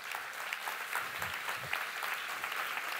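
Conference audience in Rennes applauding to welcome a speaker to the stage: a steady, even wash of many hands clapping, moderately distant and soft, continuing throughout without voices.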